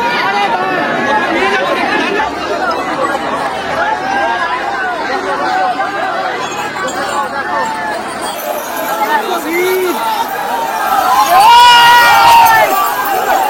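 A dense crowd of pilgrims at Tarakeshwar during the Shravan Monday yatra fills the air with loud, close chatter and shouting voices, a constant babble that swells near the end.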